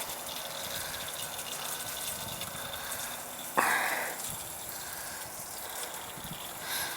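Air purging from the water heater pipes at a cottage gives a steady watery gush and hiss that runs throughout, with one sharp spurt about halfway through before the flow settles back to a continuous rush.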